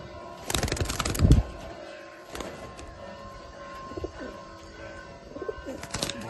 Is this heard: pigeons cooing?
yes